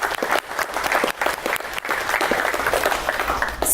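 Audience applause at a Dallas event, loud and continuous clapping from a crowd in a room, sustained throughout with faint voices underneath.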